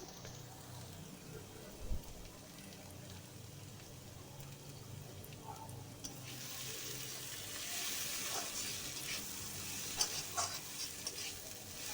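Bitter gourd sautéing in a pan with a ground paste of white mustard, cumin and green chili, a faint steady sizzle that grows brighter and louder in the second half, with occasional stirring clinks.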